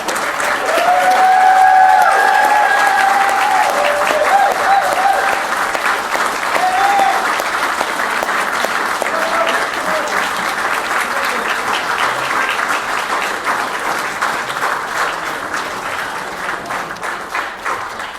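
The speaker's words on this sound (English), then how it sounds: "let's give Eddie a cheer and a round of applause" A crowd at a Social Work Month celebration claps and cheers for Eddie, steady, loud applause that carries on for the full stretch and slowly eases off toward the end.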